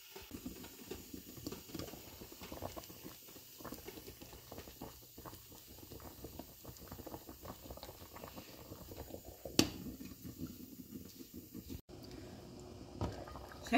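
A pot of Jaffna-style fish curry bubbles steadily at a gentle boil, with a soft continuous hiss and patter of liquid, close and fairly quiet.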